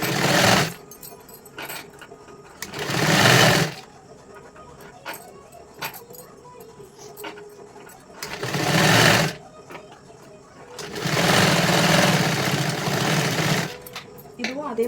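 Sewing machine stitching a size 44 katori blouse, running in several separate loud bursts of a few seconds each with quiet pauses between, close up, with soft handling noises in the gaps.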